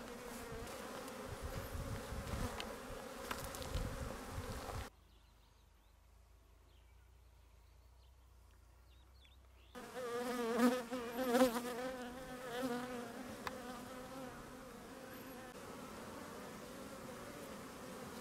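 Honey bees buzzing around beehives, a steady dense hum that stops for a few seconds in the middle and returns louder with some swelling, alone without talk.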